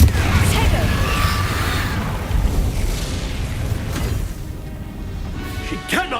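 Confringo blast spell cast in Hogwarts Legacy, a loud booming burst near the start that rumbles through the clip amid ongoing combat noise, with voices speaking over it.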